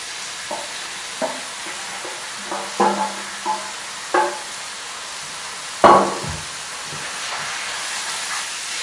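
Browned beef with mushrooms, onion and bacon for boeuf Stroganoff sizzles in a pan under a steady hiss, broken by occasional spoon scrapes and stirring clatters, one louder clunk near the middle, with no talking.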